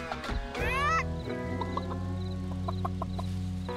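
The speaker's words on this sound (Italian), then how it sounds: "Ma che bella gallina." A chicken clucks in the Farming Simulator 25 game trailer, a close, loud rising squawk followed by steady rhythmic clucks over a sustained musical backdrop, with no talk.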